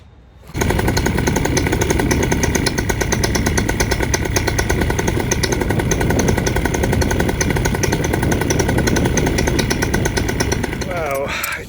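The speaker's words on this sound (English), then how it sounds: "let's go ahead and give it a start and feel what it feels like" A Moster 185 Classic paramotor engine with a cleaned carburetor fires up almost immediately and then runs loud and steady at close range, a harsh buzzing roar that holds until it cuts at the very end.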